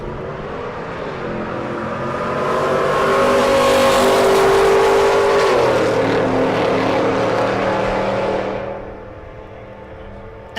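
A 4th gen Chevrolet Camaro and a 1969 Chevelle launch and drag race at a strip, engines roaring loud and swelling to a peak, shifting pitch, then fading quickly as the cars pull away.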